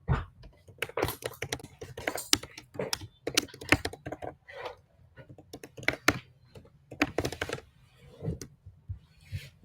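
Steady, rapid typing on a computer keyboard while writing code, dense clicking keystrokes continuing throughout over a faint low hum.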